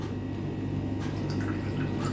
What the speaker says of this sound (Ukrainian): висипаю сюди 20 грам желатину і заливаю 60 градусів води